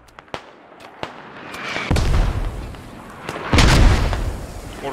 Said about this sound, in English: Mortars are starting to land on police station.